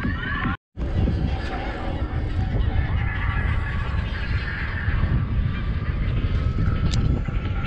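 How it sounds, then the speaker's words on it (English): A large flock of geese honking continuously over a dense, noisy background, many calls overlapping at a distance. "Lots of birds, man. Lots of geese."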